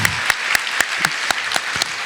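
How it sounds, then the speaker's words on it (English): Crowd applause honoring an inductee at an awards night, a steady round of clapping with sharp, regularly spaced accents that stays loud throughout, with no talking. "let's see if we can give her a big enough round of applause"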